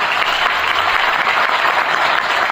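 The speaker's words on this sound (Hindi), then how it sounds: "एक बार फिर से ताली बनती है करण भाई के लिए।" Crowd applause at an LIC agent seminar in Rajkot for a speaker named Karan, an even, continuous wash of clapping with no talk over it.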